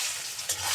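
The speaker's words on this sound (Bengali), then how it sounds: "তেলে দিয়ে ডিমগুলো ছেড়ে দেব।" Eggs drop into hot oil in a pan, giving a brief soft hiss and crackle of frying, close and fairly quiet.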